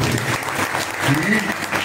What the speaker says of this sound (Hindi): सब लोग ताली बजाए